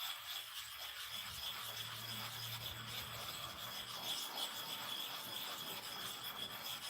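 A clipper blade scrapes back and forth across an oiled biscuit bone sharpening stone, a faint, steady gritty rubbing that continues without a break.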